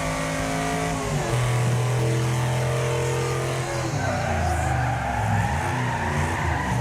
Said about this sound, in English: Hard on the brakes.